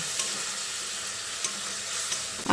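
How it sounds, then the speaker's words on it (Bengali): A spice masala with ground cumin and coriander, splashed with a little water, sautés in a pan, giving a steady close hiss and sizzle with a few soft stirring clinks. "এবার মশলাটা যাতে পুড়ে না যায় সেই জন্য অল্প পরিমাণে জল দিয়ে মশলাটাকে খুব ভালো করে কষিয়ে নিতে হবে"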